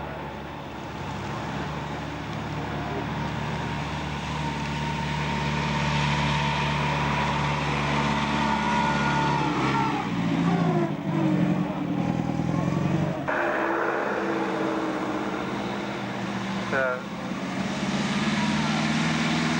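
A big old aero-engined vintage car with an Anzani engine runs with a loud, throaty, continuous roar, rising and falling slightly in pitch, close by and steady throughout.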